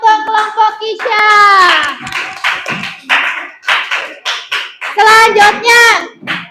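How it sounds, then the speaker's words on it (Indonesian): In a primary school classroom, children clap for a group in quick bursts while young voices chant and call out loudly over the clapping. "Tepuk tangan untuk kelompok Kisya."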